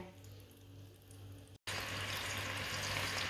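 Jaggery sugar syrup thinned with a little water is poured into hot oil, a quiet low sizzle that jumps to a louder, steady crackling fry after a brief gap.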